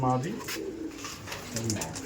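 Madrasi pigeons coo in low, rolling murmurs, mixed with a voice speaking over them and some background chatter.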